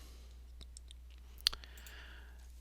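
Computer mouse right-clicks while copying and pasting, heard as a few faint, sharp clicks, one louder snap near the middle, over quiet room hum with no talking.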